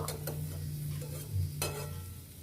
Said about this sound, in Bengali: আমি আবারও এটাকে একটু চাপা দিয়ে দিয়ে ভেজে নেব